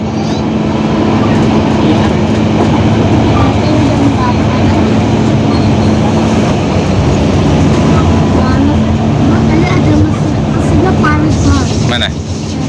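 The Batara Kresna economy train rolls along the rails with a loud, continuous rumble and rattle heard from inside the carriage, with steady low drone and occasional clatter.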